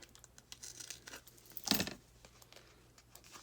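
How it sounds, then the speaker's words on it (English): Craft scissors snip a foam dimensional adhesive in half, giving a single brief, close crisp cut amid quiet handling noises. "So let me cut one of these in half."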